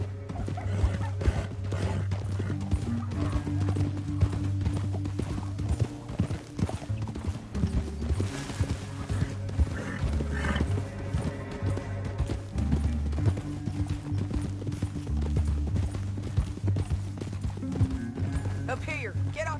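Horse hooves clip-clop steadily through a Red Dead Redemption 2 canyon ride, under a soundtrack of music and occasional talk, with a brief whinny partway through.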